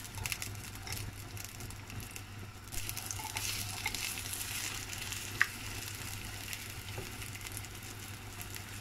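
Garlic and fresh herbs sauté in a pan with a soft, steady sizzle, light stirring clicks and a low background hum, fairly quiet with no talking.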